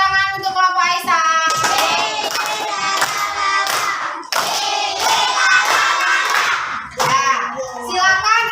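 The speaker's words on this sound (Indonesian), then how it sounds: "Beri tepuk tangan untuk kelompok Aisyah." Indonesian primary classroom children chant in unison while clapping in rhythm for one group, with sharp hand claps landing between the steady sung voices throughout.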